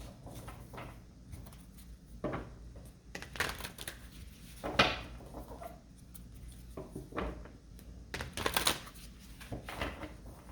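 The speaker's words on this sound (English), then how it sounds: "All right, final shuffle. Sorry for the long shuffling." Tarot cards are shuffled by hand in quiet, irregular bursts of crisp riffling and soft flicks, close up, with short pauses between the bursts.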